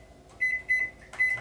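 A running microwave oven in a home kitchen hums steadily, with a high electronic tone sounding in three short pulses over the low drone, nearby and fairly quiet.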